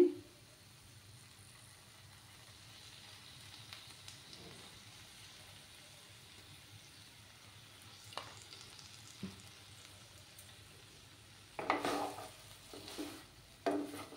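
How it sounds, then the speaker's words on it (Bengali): Milk cooking down in a pan simmers with a faint, steady sizzle, broken by occasional soft scrapes and clinks of stirring that grow busier toward the end. "পুরো শুকিয়ে নেব দুধটাকে।"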